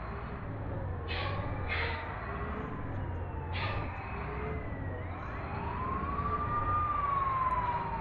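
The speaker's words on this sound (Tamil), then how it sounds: "போலீஸ் வண்டி போகுது." A police vehicle's siren wails and sweeps upward over steady traffic rumble while it passes on a road between Kovai and Mettupalayam, heard from inside a moving private bus.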